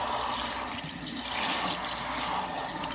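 Cold water runs steadily, splashing and pouring onto a hat to soak it, a continuous close hiss with no speech.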